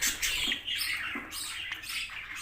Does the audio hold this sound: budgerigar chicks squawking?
yes